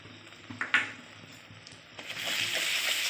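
Cashew-poppy paste with green chili and mustard paste frying in a pan for a fish curry: a few soft wet plops and stirring clinks early, then a steady low sizzle that builds and holds to the end, with no talking.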